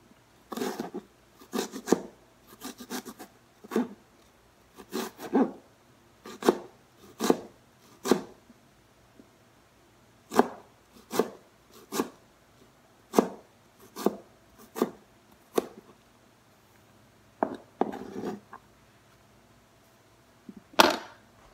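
Kitchen knife cutting Lasia spinosa (kohila) roots crosswise into small pieces on a board, a series of close, crisp chopping thuds in irregular clusters with short pauses, quiet surroundings.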